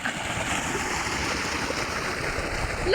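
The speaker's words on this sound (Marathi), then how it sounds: "लय पाणी आलंय लय." A large volume of flowing water rushing past, a dense, continuous roar close by that holds steady throughout, with no distinct voices.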